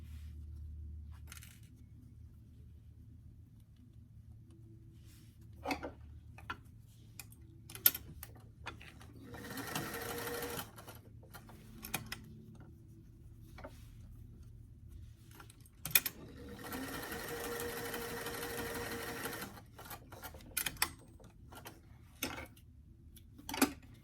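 A sewing machine stitching facings into a pocket, with two sustained runs of mechanical whirring amid sparse clicks, taps and handling noises in a quiet room.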